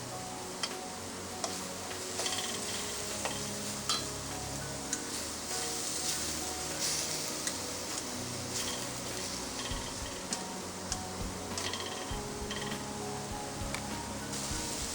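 Onions and curry leaves sautéing in a pan for beef cutlet, a quiet steady sizzle with soft ticking pops and light stirring, fairly faint and close.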